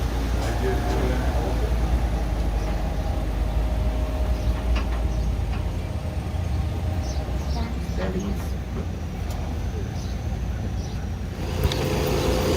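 Tram ride at Silver Dollar City theme park, a continuous rumbling ride noise with rattles and wind throughout, voices faintly underneath.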